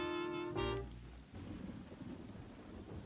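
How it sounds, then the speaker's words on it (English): Rain falls as a soft, steady hiss in a cartoon scene, starting after a brief tonal note and staying faint and even throughout. "it seemed like it had been raining for weeks"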